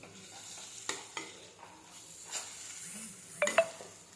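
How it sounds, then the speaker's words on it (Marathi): Cauliflower curry masala with coriander frying in a pan, a soft low sizzle broken by several scraping spoon strokes and a couple of light metallic clinks near the end, fairly quiet and close. "त्याच्यातच कोथंबीर टाकायची पूर्ण फ्राय करून घ्यायचं"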